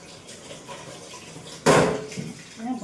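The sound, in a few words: washing dishes under running tap water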